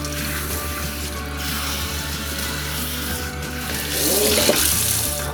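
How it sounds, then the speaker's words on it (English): Running water rinses a dog, a steady faucet-like rush that grows louder and fuller near the end, with no one talking. "Are you ready to get rinsed off?"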